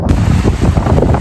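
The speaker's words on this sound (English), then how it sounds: "Nice little waterfall, guys." A small waterfall on the Pennine Way above High Cup Nick, a steady rushing splash of falling water heard close, mixed with gusty wind buffeting the microphone over a short stretch.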